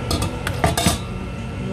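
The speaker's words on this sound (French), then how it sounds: "Et nous allons mettre notre casserole au feu." Metal pots and pans clank a few times, close by, as a cooking pot is set down on the stove.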